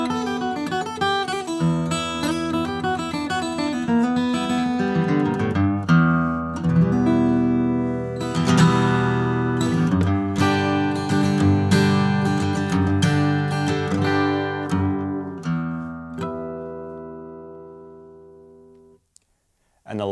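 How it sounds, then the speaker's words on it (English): A steel string acoustic guitar plays a bright strummed and picked passage, ringing chords sustaining close and clear before fading out near the end. "A steel string guitar sounds like this."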